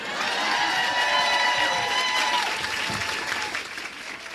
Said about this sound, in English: I cut off Waded's applause there, so let's give it up.